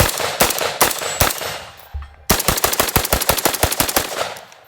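An AK-pattern rifle converted to take AR magazines fires 5.56 rounds in loud, close, sharp bursts of rapid shots, with a brief gap before a faster continuous string.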